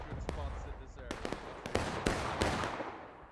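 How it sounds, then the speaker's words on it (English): Musket volley fire in a Civil War video game, scattered sharp cracks of several rifles popping in quick irregular succession, moderately distant, over a busy battle backdrop. "Holding down some volley fire."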